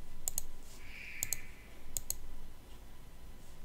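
Three quick double clicks of a computer mouse, crisp and close, spaced about a second apart over a faint background hiss.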